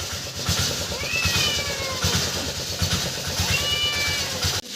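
Two drawn-out cat meows, one early and one later, rise and fall over a steady low engine-like rumble as cats cry out for fish being fried.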